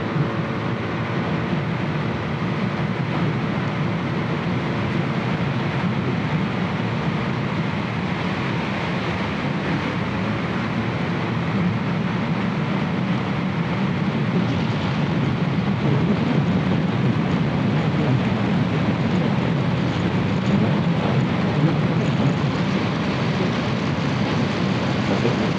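A Hero Xoom 160 scooter runs at full throttle during a top speed run, giving a loud, steady roar of engine and rushing wind that holds for the whole stretch with no talking.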